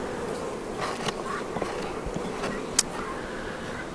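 Honey bees buzz around beehives in an apiary, a steady close drone with individual insects passing near and away.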